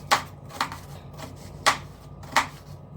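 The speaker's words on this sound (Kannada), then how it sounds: "ಚಿಕ್ಕದಾಗಿ ಕಟ್ ಮಾಡ್ಕೊತೀನಿ." Knife chopping food into small pieces on a board, four crisp, evenly spaced close taps that come alone with no talking.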